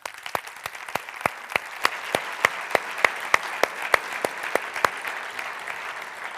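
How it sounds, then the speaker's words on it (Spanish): A conference audience applauds for a speaker at a session on child victims of gender violence, a steady crowd clapping with sharp, regular louder claps standing out, sustained and fairly close. "Damos un fuerte aplauso a Montse Plaza."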